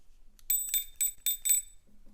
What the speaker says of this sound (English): When an overflow or underflow happened on that last gear, it would ring the bell.